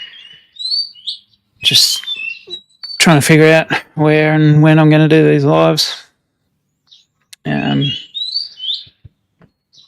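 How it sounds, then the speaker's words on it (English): Small birds chirp and tweet in short bursts in the background while someone talks over them, with gaps of quiet between phrases. "Sorry about the birds in the background."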